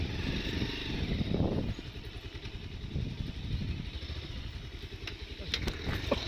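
A motorcycle engine revs and labours on a slippery, muddy hill road in Sankhuwasabha, a rough rumbling drone that swells and dips close by, with faint voices mixed in.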